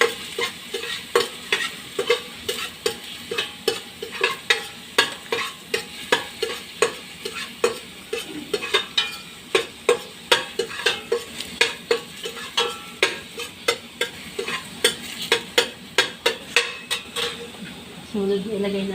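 Garlic sizzles in a hot pan while a utensil stirs and scrapes rhythmically against the metal, close and steady throughout.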